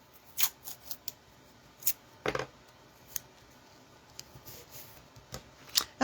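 Strips of crafter's tape being pulled and pressed down to fix stencil paper to a board, giving several short, sharp tearing and rustling bursts spread across a quiet room, with no talk.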